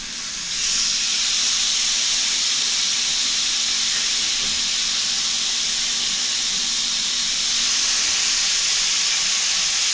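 Flank steak marinated in mustard sizzles on a hot grill after fresh oil goes on, a loud continuous hiss that swells at the start and holds steady close by, with no talk.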